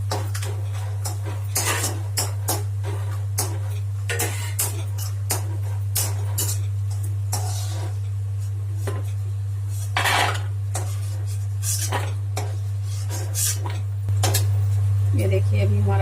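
Almonds are stirred in a pan while roasting for panjiri, with repeated scraping and metallic clinks of a spoon against the pan over a constant low hum, alongside intermittent talking.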